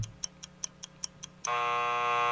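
Seven evenly spaced ticks lead into a sudden, loud, sustained electronic game show buzzer that holds steady to the end.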